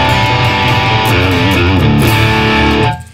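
Distorted electric guitar from a Revv G4 pedal and transparent amp, now through a Space Designer speaker cabinet 14 simulation, a loud sustained riff with shifting notes for about three seconds, then cutting off; no voices.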